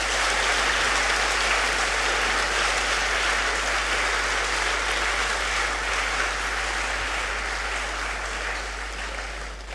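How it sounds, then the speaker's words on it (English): Audience applause after an inaugural university lecture on health, a sustained even wash of clapping from a large hall, steady and fairly loud before tapering slightly at the end. "Please, another round of applause for him."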